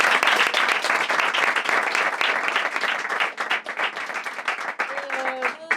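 A theatre audience applauds and claps loudly and steadily after a French solo stage show, with a brief voice rising near the end as the clapping thins slightly.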